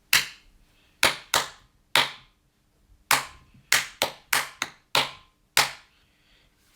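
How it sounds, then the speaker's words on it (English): Bright, sharp hand claps echo a rhythm of roughly ten beats with quick doubled hits and a dense cluster toward the end, with no voices, as a grade 2 clap-back listening exercise. "And then you would clap it back to me."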